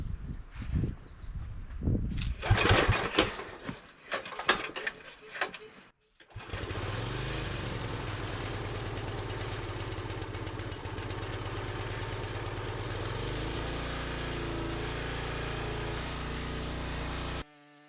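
A log splitter's small gas engine starts up after some handling noises and then runs steadily and loudly at a constant idle, with a strong low rumble that continues alone until it cuts off near the end.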